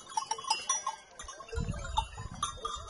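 A flock of about 200 sheep and goats, penned outside a fence after grazing in vineyards and olive groves, gives off scattered bleats and bell clinks at close to middle distance, with a low rustling rumble.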